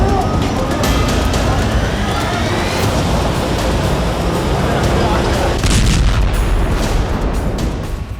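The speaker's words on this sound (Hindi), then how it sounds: "और तभी एक जोरदार धमाका होता है।" An IED blast strikes an Israeli army bulldozer in a narrow lane of Jenin camp, a sustained loud, broadband roar and rumble with crackling bursts that fills the whole stretch before easing slightly at the end.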